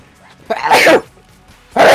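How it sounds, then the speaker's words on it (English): A person sneezes twice, loud and close: a sharp burst, then a second explosive sneeze about a second later, during a game of modded Enter the Gungeon. "I was sneezing."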